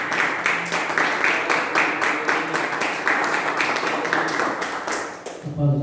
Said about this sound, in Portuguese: A igreja aplaude o nome do Senhor Jesus